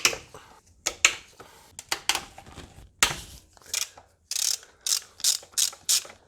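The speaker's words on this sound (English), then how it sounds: "take a 12mm socket and a long extension. One here, 2, 3, 4, 5. Let's just break them loose first." Ratchet with a 12mm socket on a long extension loosening intake manifold bolts on a 1.5 Mazda 2, a series of close, sharp ratcheting bursts in quick rhythmic strokes, no talk.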